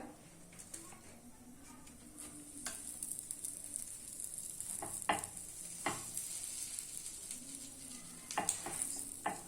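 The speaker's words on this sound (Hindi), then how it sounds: "बर्गर को तवे पर सेकेंगे" A veg burger patty toasting in a little oil on a tawa griddle, a soft steady sizzle broken by occasional sharp crackles and pops.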